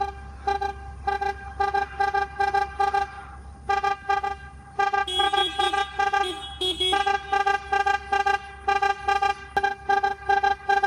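An electric car's repeating alert tone sounds when the hazards are switched on during a road trip race, a steady pulsing run of beeps going on and off in a regular rhythm, close and clear, with low cabin hum beneath and no talk.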